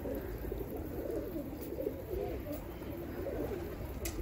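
Tumbler pigeons of the telli kelebek breed coo softly and repeatedly over a steady outdoor background hum, with no talking.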